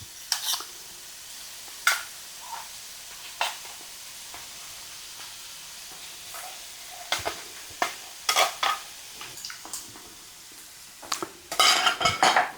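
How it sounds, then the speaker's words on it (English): Keystone canned beef and a 10-ounce can of cream of mushroom soup are stirred in a pan with a metal spoon. Irregular clinks and scrapes against the pan sound over a faint simmer. "stir this up a little bit"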